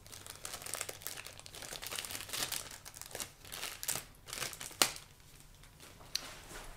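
Plastic packaging crinkles and crumples as the base of a Gohan SSJ2 figure is opened, a steady close rustling with a few sharper crackles and snaps near the end, no talking.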